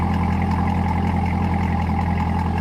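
A C8 Corvette fitted with an AWE Touring Edition exhaust runs at a steady idle, a loud, close, even rumble with a deep low drone and no break throughout.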